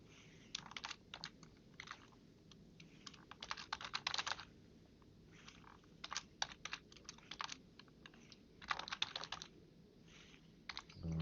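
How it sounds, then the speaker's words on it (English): Computer keyboard typing in bursts, quick clusters of light clicks separated by short pauses, close and fairly quiet with no talking. "I'm just going to type the name in."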